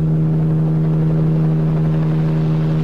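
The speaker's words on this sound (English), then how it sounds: "Is that helicopter?" A helicopter in the video game Corpse Party Blood Drive, a steady droning rotor hum that holds at an even level throughout, close and loud, with no talking.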